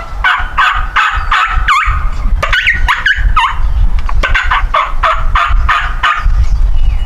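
A turkey hunting call runs through a rapid series of raspy, old-hen-like yelps, loud and close, repeated in steady bursts with no talking.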